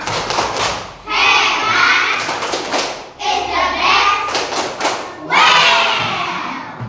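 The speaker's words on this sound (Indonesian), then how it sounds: "Kita kasih tepuk hebat buat kelompok bunga" A fourth-grade primary school class performs a rhythmic clapping cheer in three loud bursts of claps and children's shouting voices, with short pauses between them.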